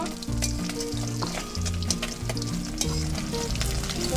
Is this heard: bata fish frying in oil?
yes